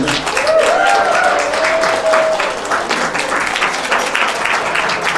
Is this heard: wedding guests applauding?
yes